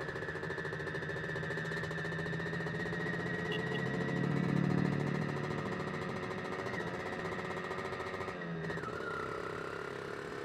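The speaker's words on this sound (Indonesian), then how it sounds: "Kita sambil nunggu panas mesinnya" An engine idling steadily while it warms up, a continuous low drone with a faint rhythmic pulse and a slight swell midway, close and quiet, no speech.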